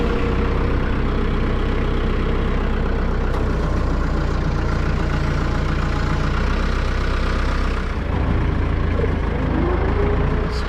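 A farm tractor engine runs steadily at idle on a homestead during hay cutting, a loud, close, low diesel rumble that stays even throughout with a brief dip near the end, no voices.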